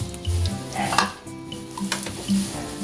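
Ginger sautéing in a pan ahead of ground meat, with a steady sizzle and the scrape and clink of a utensil stirring against the pan, close and fairly loud.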